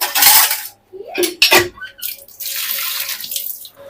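Dishes being washed under a running kitchen tap, with splashing water and clinking crockery in short bursts, a brief pause, then steadier flowing water.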